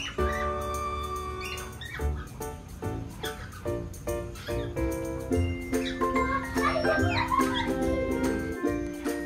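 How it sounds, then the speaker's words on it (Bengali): Caged birds in a farm bird house chirp and squawk in overlapping, fairly close calls, a busy chorus of short tweets and tonal notes throughout. "পাখিদের এত সুন্দর কিচিরমিচির শব্দ শুনতে অনেকটাই শ্রুতিমধুর লাগে।"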